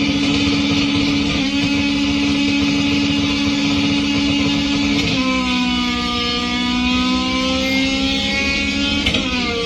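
A small 1.6-litre engine revs loudly and close by, a buzzing, rasping drone that holds steady, then shifts pitch and climbs through several revs over about ten seconds, with no voices over it.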